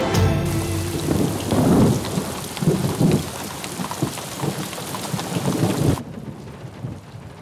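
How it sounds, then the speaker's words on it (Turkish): Heavy rain pours steadily on surfaces while deep thunder rumbles and rolls through it, loud and close, before the storm cuts to a quieter, thinner patter of rain. "Ne zaman dinleyecek bu yağmur?"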